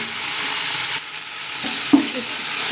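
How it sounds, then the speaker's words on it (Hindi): Minced meat (keema) sizzles steadily in a pan with garlic and ginger, a close, continuous hiss broken by a few soft stirring scrapes and one small clack. "फिर इसमें मैं कीमा डाल के इनको फ्राई करूँगी"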